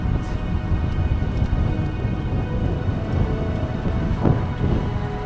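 Heavy rain pours down with wind on a bike tour from Scuol to Vevey, making a steady, dense roar with gusty rumble underneath that fills the whole stretch. No one speaks.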